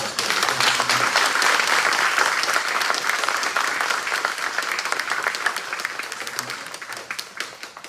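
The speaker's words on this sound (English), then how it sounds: "we give Brandon a round of applause" An indoor event audience claps in sustained applause, dense and loud at first, then gradually thinning and fading toward the end.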